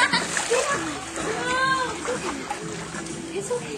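A dog swims and splashes through water, with steady sloshing and splatter close by while children and adults talk and call out over it.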